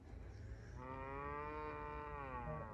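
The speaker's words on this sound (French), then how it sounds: "Oh merde, c'est des vaches." Cows moo loudly and close by in a long, drawn-out low call, just after wading in water near a coal spoil heap, with steady outdoor background noise beneath it.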